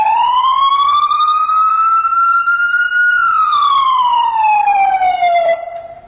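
A loud wailing ambulance siren en-route tone slowly rises and falls in long sweeping cycles, close and continuous, fading at the very end.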